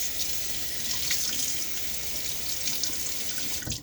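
A steady stream of tap water runs into a sink to rinse a razor during a wet shave, loud and continuous with a brief splash near the end.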